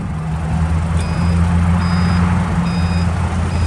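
Backup beepers on a TCM 3K cushion-tire forklift give a regular series of high electronic beeps over a steady low engine hum, close and clear, with no talking.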